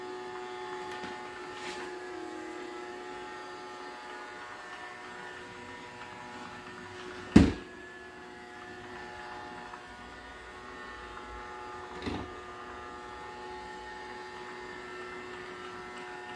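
A Dwi Dowellin robot vacuum cleaner runs with a steady, even motor hum, broken by two sharp knocks as it bumps into something, the first louder than the second.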